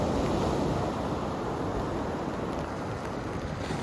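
Beach surf washes in a constant, loud roar of breaking waves, with wind buffeting the microphone throughout and no voices.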